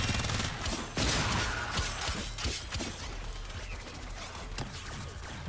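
Quiet, distant-sounding gunfire in the Warframe video game: rapid volleys of shots and scattered sharp cracks run through the whole stretch, with no talking.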